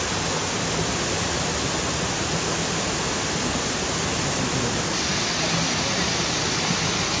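Steady broadband roar of the first tier of a Thai jungle waterfall where swimmers bathe among fish, a constant loud wash of falling water with no voices.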